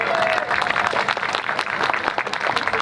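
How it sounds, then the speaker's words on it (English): A crowd at a Vietnamese American culture and heritage festival opening ceremony claps steadily and loudly throughout, a dense, sustained round of applause with a few faint voices mixed in. "Let's give her a big round of applause."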